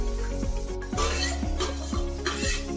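Onion and garlic fry in a pan for kala chana masala, with a spoon repeatedly scraping and clinking against the metal in a steady rhythm over a continuous close sizzle; no talking.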